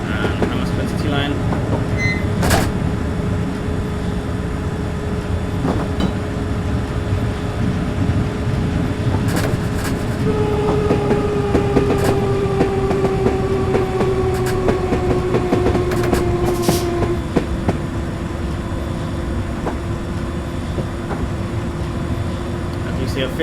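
A London Underground Circle Line train runs in Train Simulator 2020, its steady loud rumble and wheel clatter going on throughout. A rising motor whine comes in partway through, and a voice speaks over it.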